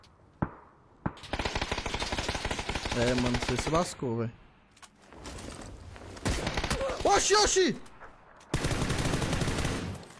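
Gunfire in a video game shooter, long bursts of rapid automatic fire in several volleys with brief gaps between them, loud and near, while someone talks in between.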